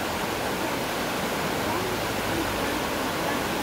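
A river flowing past on an island, heard as a steady, dense rush of water that stays constant and fairly loud throughout, with no distinct splashes standing out.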